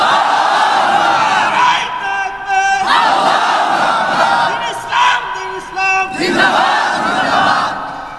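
A large crowd at an Islamic sermon gathering roars the takbir in loud, sustained collective shouts, several surging waves of voices that swell and fade across the clip.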